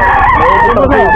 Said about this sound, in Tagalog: magkano sa manok mo?